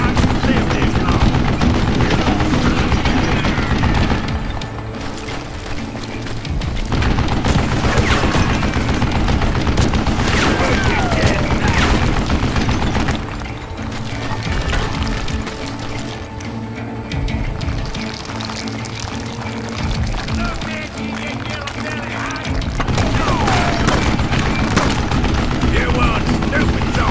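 Loud, near-continuous gunfire from Call of Juarez: Gunslinger, with rapid shots and bursts that keep going with brief lulls, partly under a voice talking.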